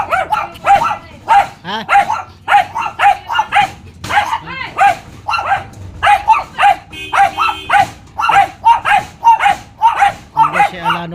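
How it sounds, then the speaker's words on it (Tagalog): A dog barks repeatedly in quick bursts at a birthday gathering, loud and close, with people talking over and between the barks. "Ganda naman ang aso oh."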